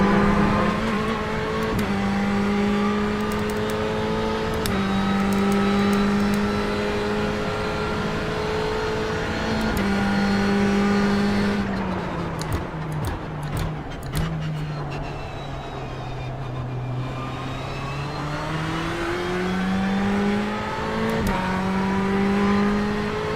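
A GTE race car in the iRacing sim holds a steady, loud engine drone throughout, with pitch dipping as it brakes and gears down into a corner and then climbing again under acceleration, with no talk over it.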